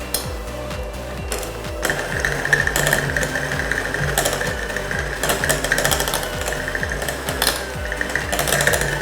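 An electric hand mixer creams butter for fruit pizza dough in a bowl, a loud steady motor whir with rapid rhythmic beater knocking that grows busier partway through.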